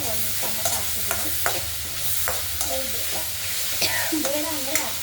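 Tomato fries in a pan for an okra curry, with a dense, close sizzle and repeated stirring scrapes of a spoon against the pan, no talking heard.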